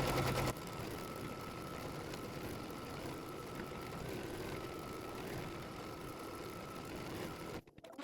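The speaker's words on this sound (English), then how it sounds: "I'm going to run the tack down stitch to secure that fabric in place." Embroidery machine stitching a tack-down line to hold appliqué fabric in a hoop, a steady even mechanical whir with a faint ticking tone running continuously and close, stopping abruptly near the end.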